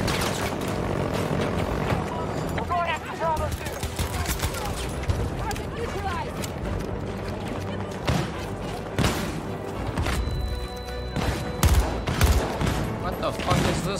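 Dense gunfire on the Hourglass map in Battlefield 2042: sustained volleys and single shots crack continuously throughout, with booms and aircraft or helicopter noise behind, and a voice talks over parts of it.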